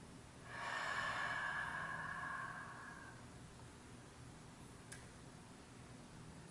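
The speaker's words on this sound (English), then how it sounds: "let that exhale be long" A long, slow exhale through the mouth makes a soft, breathy whoosh that lasts a few seconds and fades. A faint click follows in a quiet room.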